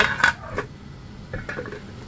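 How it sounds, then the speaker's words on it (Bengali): A metal lid is set onto a cooking pot of chicken with cabbage, giving a few short clinks and clatters in a quiet kitchen. "এখন ঢাকনা দিয়ে দিলাম সিদ্ধ"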